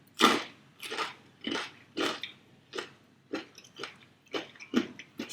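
Someone bites and chews cold spicy Popeyes fried chicken close to the mic, with a steady series of crunchy, wet chews at roughly half-second intervals and no talking.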